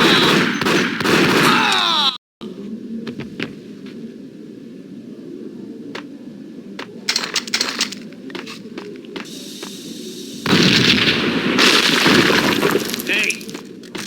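Gunfire from the video game Max Payne: a dense burst of shots at the start, then a quieter stretch with scattered sharp hits, and a loud renewed volley near the end, with voices talking over parts of it.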